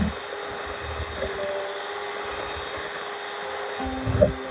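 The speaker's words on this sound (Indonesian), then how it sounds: "Kita mixer selama" An electric mixer whirs steadily, beating eggs and sugar for a lime-scented banana sponge cake batter, a constant close motor drone with a faint high whine and a brief pitch shift near the end.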